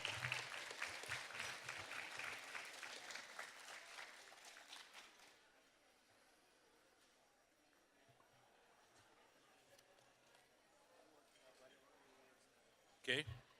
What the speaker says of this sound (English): So a big round of applause for all of you folks in our community.